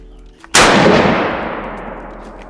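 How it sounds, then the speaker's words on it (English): A single loud 30-06 rifle shot cracks at an outdoor shooting range, followed by a long rolling echo that fades slowly over about two seconds. "I'm gonna try this 30-06 again at 100 yards"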